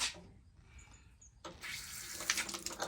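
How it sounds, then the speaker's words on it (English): Water gushes from the test cocks of a pressure vacuum breaker backflow assembly, starting quietly and then bursting into a loud, steady hissing spray partway through that continues to the end. "Now the first thing we need to do is flush our test cocks."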